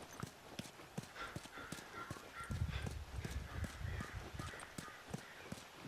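Horse hooves clip-clop at a steady walking pace in the video game The Last of Us, a quiet, regular series of hoof strikes alone with no talking, growing a little fuller midway.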